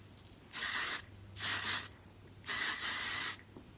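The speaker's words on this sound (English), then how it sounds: "I love a good texture spray." An aerosol hair texture spray hisses in three short bursts, the last one longer, close up in a quiet room.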